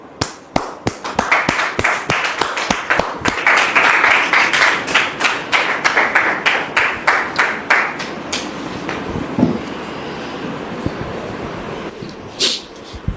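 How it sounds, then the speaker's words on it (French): Studio audience applause welcoming guests on a televised drama set: distinct rhythmic claps build into steady applause, then thin out into sparse claps and taps before fading. "Merci de les recevoir sous vos applaudissements"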